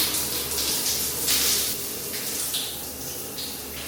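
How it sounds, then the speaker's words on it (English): Shower water runs steadily and close by, a continuous hiss and splash with small shifts in flow and no talking. "I'm gonna go ahead and hop in the shower"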